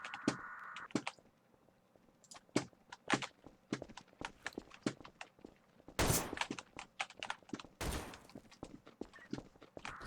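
Scattered video game gunfire during a police raid inside a building, with sporadic sharp shots and two louder bursts around the middle and later, some clattering movement between them.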